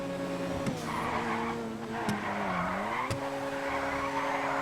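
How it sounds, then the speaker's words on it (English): A car drifting in GTA 5 on PS5 Pro, with a droning engine under continuous tire squeal that rises and falls through the slide, alone with no talk. "sometimes I drift while holding on the gas"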